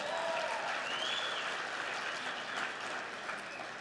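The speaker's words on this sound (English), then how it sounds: "Give that a round of applause" Steady, full applause from an awards ceremony audience at a hall of fame event, many people clapping together and fading slightly near the end, with a faint whistle or cheer rising above it.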